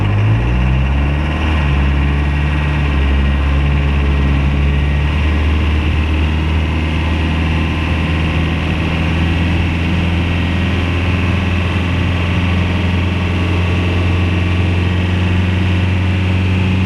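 A steady, loud engine drone from an off-road vehicle pulling in low-range gear up steep hills, with a low rumble that shifts pitch early on and then holds an even, continuous tone.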